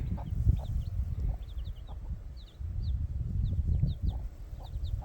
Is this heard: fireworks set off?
no